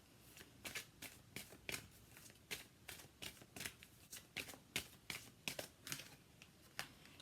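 Oracle cards for the Romance Angel card riffle and snap quietly as the deck is shuffled, giving a rapid, uneven run of soft papery flicks close by.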